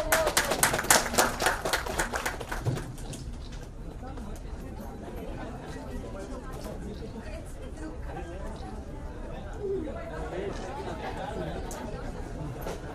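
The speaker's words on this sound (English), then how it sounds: "So once again, a huge round of applause." Applause from the audience at a Ted Baker London watch launch: a burst of clapping for the first few seconds that quickly fades into a murmur of crowd chatter and nearby talk.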